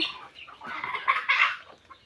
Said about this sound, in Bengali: সকাল সকাল মুরগিগুলোকে সব ছেড়ে দিয়েছি